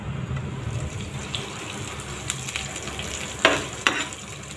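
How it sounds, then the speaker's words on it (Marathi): Green chillies frying in hot ghee with cumin seeds, a steady close sizzle and crackle with a couple of sharper pops near the end. "मिरच्या व्यवस्थित फ्राय करून घ्यायच्या, कच्च्या ठेवायच्या नाहीत।"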